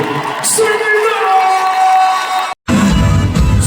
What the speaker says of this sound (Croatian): dajte jedan veliki, najveći aplauz za ovu kraljicu